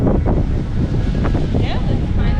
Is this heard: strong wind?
yes